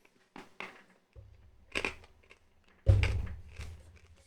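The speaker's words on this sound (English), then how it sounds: "As I crunch loudly into the microphone." Loud, close crunching into a boiled orange sweet held right at the microphone, with a few sharp cracking bites spread across the clip and one heavy crunch near the end.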